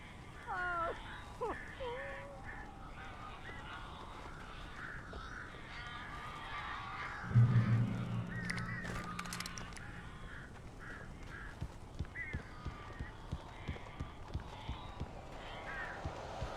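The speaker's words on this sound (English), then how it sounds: "These birds are weird." Crows caw and flap in the video game Alan Wake Remastered, with a few distinct calls early on against quiet game ambience, a louder thump midway and scattered faint clicks.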